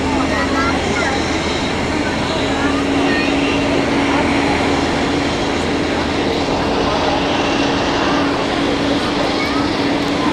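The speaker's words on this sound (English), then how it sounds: "the A380 taxiing has just landed" An Airbus A380 airliner taxiing at Zurich Airport, heard from an observation deck as a loud, steady engine roar and whine that holds constant throughout, with people talking nearby.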